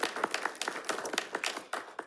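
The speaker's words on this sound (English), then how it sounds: "So can I get a little round of applause?" A small audience claps at a school district board meeting, a scattering of sharp, uneven hand claps running steadily for about two seconds with no voices over it.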